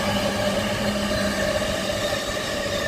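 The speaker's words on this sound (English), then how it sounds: "Trains are fine, big fan of the sounds" Japanese train rolling along railway tracks in Tokyo between Shinagawa and Omori, a steady loud rumble with sustained tonal hum and no voices over it.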